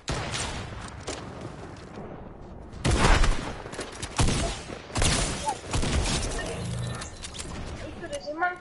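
Bursts of Fortnite gunfire crack out in loud clustered volleys, with quieter game mechanism sounds between them and voices talking over the action.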